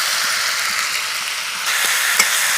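Tomatoes softening with spices in a pan give a steady, dense sizzle that swells slightly toward the end, with a faint utensil tap, no talking.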